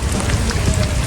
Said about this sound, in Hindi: नहीं रुक रही बारिश